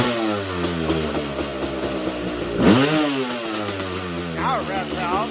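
A Kawasaki KX500 two-stroke motorcycle engine, running lean and smoking, revs up and down close by in a raspy, buzzing tone, with one sharp throttle blip midway and voices talking over it.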